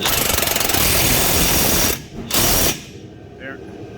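An air impact gun tightens a strut bolt in a long, loud, rapid hammering burst, stops briefly, gives a short second burst, and then a faint single torque click follows in near silence.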